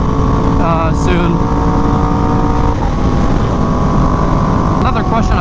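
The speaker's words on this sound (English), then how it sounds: "for all the people asking what exhaust I have on this bike, that's exhaust" A Yamaha R1M motorcycle with an aftermarket exhaust drones loudly and steadily while riding, its engine note rising and falling slightly under heavy wind rush, with a voice speaking over it.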